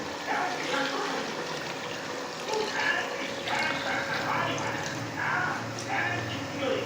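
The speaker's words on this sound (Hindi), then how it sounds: "इसके साथ ही हम इसमें पानी भी ऐड कर देंगे।" Water is poured into a cooking pot of beef paya seasoned with black pepper, a continuous splashing, filling rush with uneven surges, moderately quiet.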